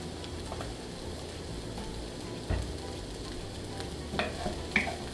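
Bacon-wrapped pork tenderloin stuffed with carrot, parsley, onion, garlic and oregano sizzles steadily in a hot pan, a continuous close crackle with a few brief louder pops and stirring clinks.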